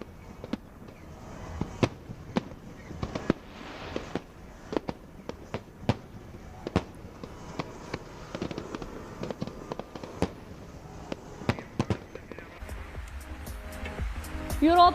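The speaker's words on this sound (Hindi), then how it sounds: "रात 12 बजते ही आसमान में भव्य आतिशबाजी की गई।" New Year fireworks bursting over Cape Town at midnight, a long series of sharp cracks and booms at irregular intervals, some close and loud, with crowd noise underneath and a denser crackling barrage at the end.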